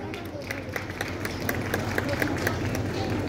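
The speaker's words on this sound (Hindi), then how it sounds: "एक बार चाहूंगा उनके लिए जोरदार ताली।" An audience at a Save Health Charitable Trust gathering gives loud applause for the trust's national general secretary: dense, rhythmic clapping with crowd murmur throughout.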